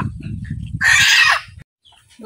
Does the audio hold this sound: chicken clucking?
yes